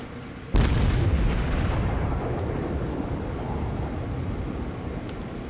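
Battleship main guns fire in the World of Warships video game: one heavy, close boom, then a long rumbling tail that slowly fades.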